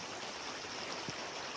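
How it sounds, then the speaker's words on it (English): A small mountain stream near a trail campsite flows with a steady, soft broadband rush, constant and unbroken, with no voices over it. "there's a little stream that I can use to fill up water"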